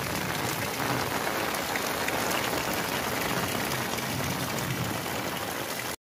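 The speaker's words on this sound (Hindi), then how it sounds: "ज़बरदस्त तेज बारिश हो रही है।" Heavy rain pours in a Punjab village, a dense, even hiss of water on surfaces that holds steady and fairly faint, then cuts off abruptly.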